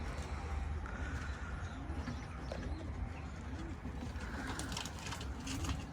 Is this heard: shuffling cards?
no